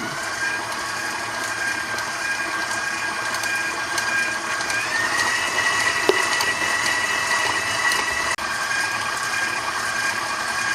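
Electric mixer churning flour into shortbread dough, a steady whirring motor hum with a tonal whine that rises in pitch partway through as the speed is increased, continuous and fairly close with no talking.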